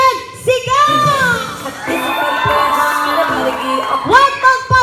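Guests at a first birthday party in an events venue shout and cheer together, a loud sustained crowd roar with high whoops and children's yells rising and falling over a few seconds.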